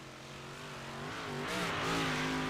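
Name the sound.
race cars driving around the track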